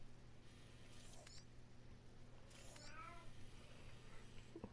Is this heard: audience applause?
no